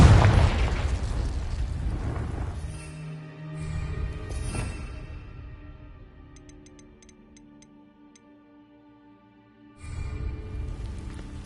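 Confringo blasting spell going off in Hogwarts Legacy, a loud booming burst that rolls out into a decaying rumble with faint ticking afterward, followed by a second swell of noise near the end.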